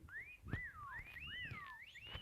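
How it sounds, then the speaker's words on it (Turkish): Several rising and falling whistles from Roblox characters overlap and trade off during a hide-and-seek game, clear and fairly close, with a few soft thumps underneath. "Bak bak bak ıslık çalıyorlar bak."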